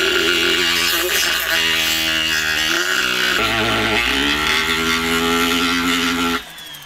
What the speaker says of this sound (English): So this is the Fordham rotary tool.